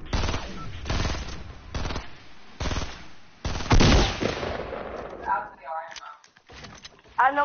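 Rapid shotgun blasts and bursts of gunfire in a fast-paced multiplayer shooter video game, several sharp loud shots in quick succession over the first few seconds, followed by players talking.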